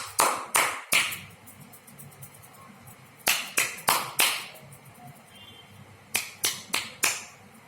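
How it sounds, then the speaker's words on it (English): Rhythmic winner clap from hands clapping in short bursts, three sharp claps, a pause, five claps, another pause, then four more, close and crisp in a quiet room. "That is called the winner clap."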